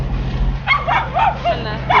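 A dog on a passing boat in a town-centre canal yips and barks several times, moderately close, over steady low motor rumble and water noise.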